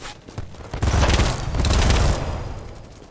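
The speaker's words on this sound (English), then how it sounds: "Everything is just exploding and people shooting everywhere." Explosions and rapid gunfire in the BattleBit Remastered battlefield shooter, a dense, loud burst of overlapping shots and booms that swells and then fades.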